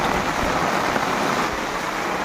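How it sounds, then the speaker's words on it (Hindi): Heavy monsoon-type rain pours down in Mayurbhanj, Odisha, a dense, steady roar of falling water on surfaces that stays loud and unbroken throughout, with no voices. "खतरनाक वर्षा खतरनाक।"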